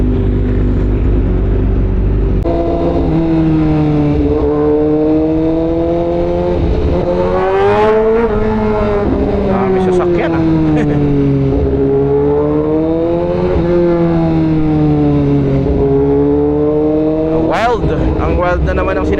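A big bike motorcycle rides through city traffic, its engine loud and close, revving up and down in repeated swells with a sharp throttle blip near the start and brief bursts later.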